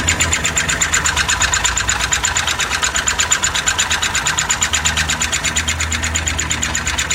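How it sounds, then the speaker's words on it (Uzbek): A Chevrolet Nexia 3 with a seized engine is cranked on the starter, giving a fast, even, mechanical chugging pulse that repeats without a catch, loud and close throughout, with no talk. "Hozir motordan so'raydigan ovoz chiqadi"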